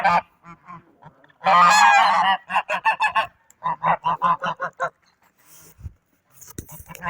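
Several geese honk loudly and close by in a series of repeated, uneven bursts with brief pauses between calls, then a few fainter honks near the end.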